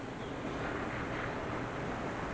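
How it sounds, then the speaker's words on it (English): Ocean surf at a beachfront resort suite in Riviera Nayarit near Puerto Vallarta, Mexico, a steady broad wash of waves mixed with wind noise, continuous and fairly loud with no talking. "You can hear the ocean."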